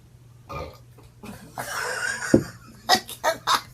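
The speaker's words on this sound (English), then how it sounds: "Okay, hold on. I'll burp now." A drawn-out belch after drinking soda, loud and close, followed by several short bursts like laughter or smaller burps, in a playful comedy skit.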